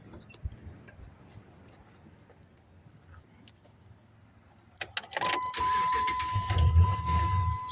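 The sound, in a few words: 2005 Dodge Ram 2500 Hemi engine starting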